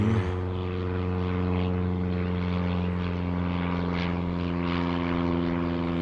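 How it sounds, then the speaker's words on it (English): Small propeller airplane passing over near a small local airport, a loud steady engine drone with a constant tonal hum, heard outdoors in a garden without talk. "And then I hear an airplane"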